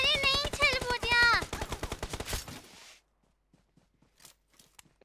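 Rapid bursts of automatic gunfire from a shooting video game fill the first few seconds, loud and close, then fade to near silence broken by a few faint, scattered distant shots.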